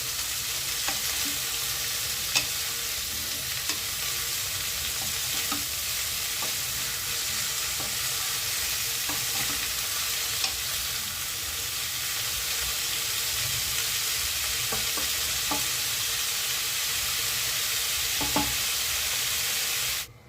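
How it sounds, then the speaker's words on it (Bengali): Snake gourd, just salted, fries in a pan with a loud, constant sizzling hiss, with light taps and scrapes of a spoon turning it over now and then. "দিয়ে পুরো চিচিংয়েটাতে ভালোভাবে মিশিয়ে নিচ্ছি"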